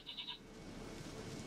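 A short, wavering goat bleat from the video game The Witcher 3, three quick pulses at the start, followed by a quiet ambient game backdrop.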